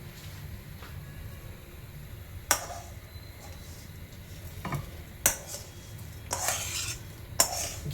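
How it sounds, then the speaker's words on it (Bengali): Ghee-fried rice is tipped into a pot for payesh and stirred, giving a low steady scraping with a few sharp utensil clinks against the pot and a brief rattle of grains. "এবার এটার মধ্যে যে চালটা ভেজে রেখেছিলাম সেই চালটা দিয়ে দেওয়ার পালা"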